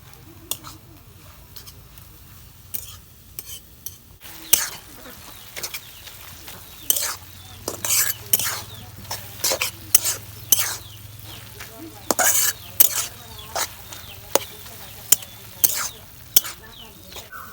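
Banana stem frying in a pan with cumin and garam masala, a low steady sizzle overlaid by repeated sharp scrapes and clacks of a spatula stirring, growing busier as the stirring goes on.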